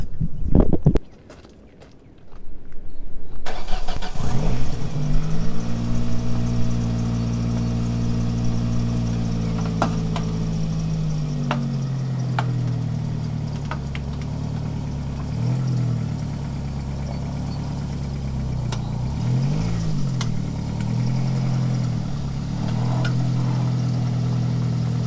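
A car engine cranks and catches, then runs steadily and close as the car is driven slowly up onto ramps in a home garage, its pitch dipping and swelling with throttle changes under faint knocks and clatter.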